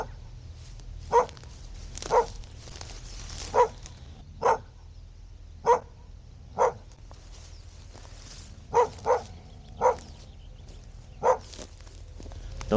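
A dog barks in single sharp yaps spaced a second or two apart, about ten in all, mid-distance, outdoors by reeds at dawn over a low steady background rumble.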